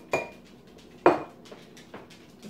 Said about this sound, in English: now I'm going to throw in my onions with my peppers